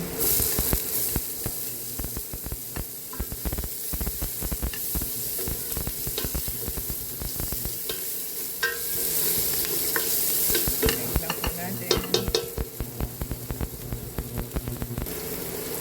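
Chopped onion sizzles and fries in a hot pan while being stirred, with steady close crackling and frequent scraping stir strokes throughout.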